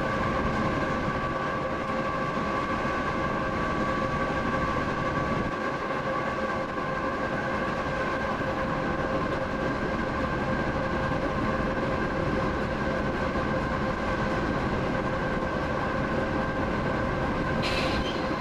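Freight train rolling steadily near Red Wing, Minnesota, as heard from inside the locomotive cab: a dense, continuous rumble with sustained engine tones throughout and no speech.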